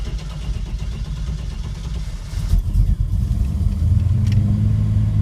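A 1967 Chevelle with MSD EFI idles steadily near 900 RPM, a loud, close, low rumbling engine drone that swells slightly partway through before settling back into an even idle.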